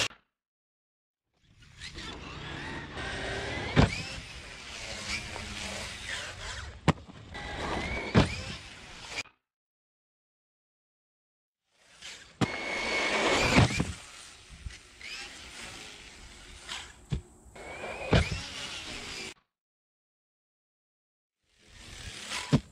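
A Traxxas Sledge RC monster truck with a 1480 motor whines and revs hard in repeated bursts of several seconds each, with sharp clacks and crunches over a whirring drivetrain and silent gaps between runs.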